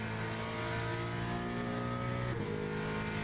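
A Ford Mustang race car in Le Mans Ultimate, its engine note holding steady and loud as it accelerates hard, with a brief dip in pitch around a gear shift before it pulls again.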